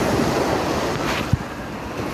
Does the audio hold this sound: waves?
yes